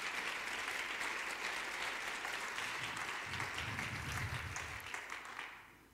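Audience applause at the close of a keynote lecture in a hall, a dense, steady patter of many clapping hands that holds for several seconds before fading out near the end.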